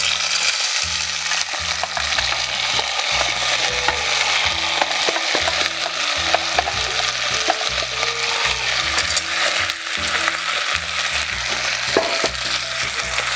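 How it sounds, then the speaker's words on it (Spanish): Corn kernels fry in hot oil while being stirred with a small piece of wood, a loud steady sizzle broken by a regular scraping, rattling rhythm, with no voices. "tenemos el aceite caliente y vamos a proceder a echar el maíz"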